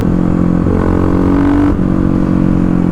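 Kawasaki KLX motorcycle engine revving loudly and close, a steady throaty idle that rises in pitch through a rev, dips briefly, then settles back into a continuous rumble, with no talking.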